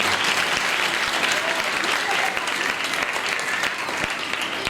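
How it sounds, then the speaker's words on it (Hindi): A crowd applauding steadily, a dense wash of clapping that holds at an even level throughout. "ये इनके लिए ज़ोरदार तालियां सर"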